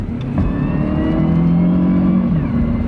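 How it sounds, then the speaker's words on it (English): A car cruises at highway speed with a steady engine drone and a faint whine from the transmission running through it, continuous and close with no talking. "You can hear the little whine in the tranny, but it's not outrageous."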